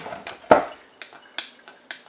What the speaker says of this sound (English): using cold water, I'm going to just scrape the bottom off here.